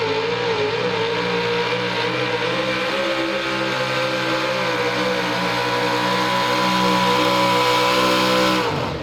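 A pulling truck at a truck and tractor pull roars continuously at full power, a loud, dense engine drone with steady harmonics that holds for the whole stretch before cutting off near the end.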